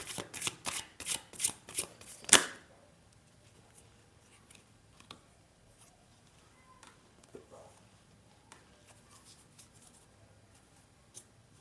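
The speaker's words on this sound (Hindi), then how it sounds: "हम इन कार्ड्स को अरेंज करेंगे।" Tarot cards are shuffled in quick, crisp riffling bursts for a couple of seconds, then set down and arranged with soft, sparse taps and slides at close range.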